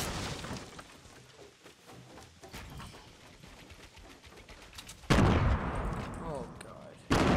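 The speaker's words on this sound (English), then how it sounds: "Oh, we're getting shot at." Scattered gunfire in a Fortnite match, faint distant shots under the game's ambience, then two sudden loud bursts close by near the end.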